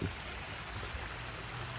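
Water from a waterfall rushes in a steady, continuous wash, close and fairly loud, with no talk.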